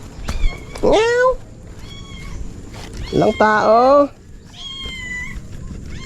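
A cat near a house gives two loud, drawn-out meows a couple of seconds apart, then softer mewing, while a person speaks briefly.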